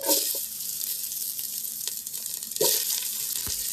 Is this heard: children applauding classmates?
no